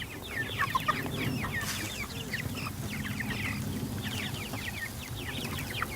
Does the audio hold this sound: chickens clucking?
yes